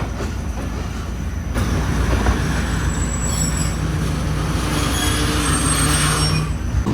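The Sukkur Express running on the rails, a loud steady roar of wheels and carriages with a long high squeal of wheels and some rhythmic rattling, close and continuous.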